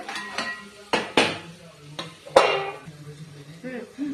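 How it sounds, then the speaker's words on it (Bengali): A lid set on a cooking pot of pumpkin curry, with several sharp clanks and metallic knocks of metal on metal, close and fairly loud, and faint sizzling between them. "ঢাকনাটা দিয়ে দিলাম"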